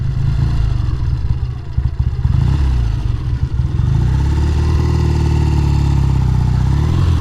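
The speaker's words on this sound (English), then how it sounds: "One heck of a motorcycle." A 1969 Triumph T120R motorcycle engine runs loud and close, a steady clattering mid-pitched rumble with slight rises in revs throughout.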